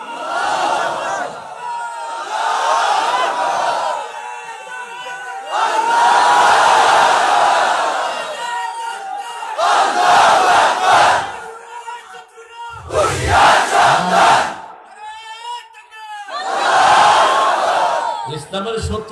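A large crowd at an outdoor Islamic sermon gathering in Barlekha, Moulvibazar, shouts the takbir Allahu Akbar in repeated loud bursts, each swell of massed voices separated by short pauses.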